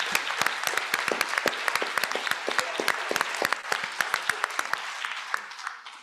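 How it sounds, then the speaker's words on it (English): An audience breaks into applause at a science laureates' dialogue event, sharp individual claps standing out over a dense roll of clapping that thins and fades toward the end. "A round of applause."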